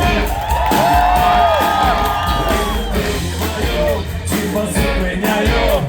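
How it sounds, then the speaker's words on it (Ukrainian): A concert audience at a Skryabin tribute evening in Toronto cheers and yells for the band, with loud whoops and shouts and a dense crowd roar throughout. "Аплодисменти для команди!"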